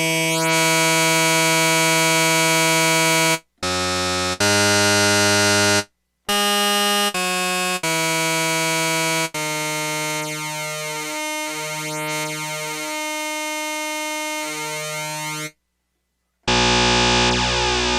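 Buzzy, harmonically dense OSCar high-density wavetable tones from a PWM Mantis synthesizer, a series of sustained loud notes and chords separated by brief gaps, with shifting sweeping overtones and no talking.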